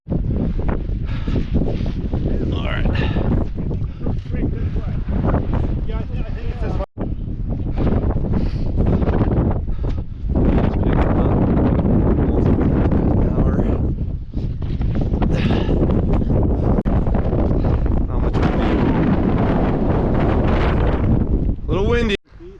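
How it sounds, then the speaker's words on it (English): Strong gusting wind buffets the microphone on a winter mountain hike up Eisenhower in New Hampshire's White Mountains, a loud continuous roar with brief lulls, while a person talks intermittently over it. "Wind is picking up for sure."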